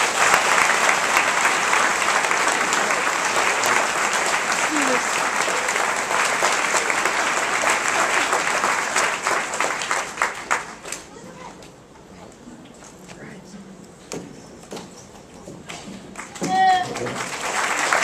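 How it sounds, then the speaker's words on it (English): Sustained audience applause at an opening speech for a tolerance fair, dense and steady clapping for about ten seconds before fading into scattered claps and quiet. "Let's give them another round of applause."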